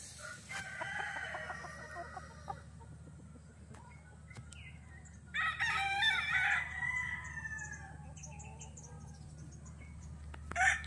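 Gamecocks at a game farm in Bauang, La Union, roosters crowing repeatedly at close and middle distance over a steady low hum, with occasional clucks.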